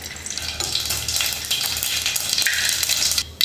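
Mustard seeds splutter and crackle in hot oil in a pan for sambar, a dense continuous sizzle with rapid popping, close and fairly loud with no talk.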